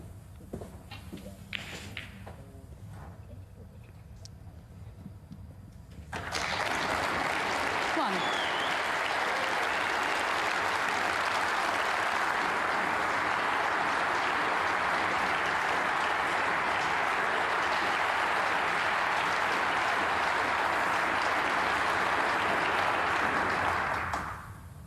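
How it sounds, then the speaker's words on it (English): Prolonged, loud applause fills a snooker arena at the German Masters as a match concludes on table two, rising abruptly after a quiet stretch with a few soft taps and shuffles, then holding steady and dense to the end. "Prolonged applause, always an indicator that a match has come to its conclusion"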